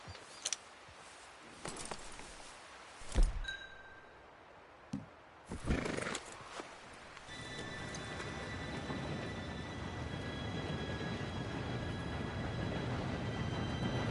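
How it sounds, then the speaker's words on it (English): Train arriving in the Red Dead Redemption 2 game, beginning with a few scattered clanks and thumps, then a steady rumbling roar with faint high squeal tones that builds and holds to the end, no talk. "Train should be here any minute now."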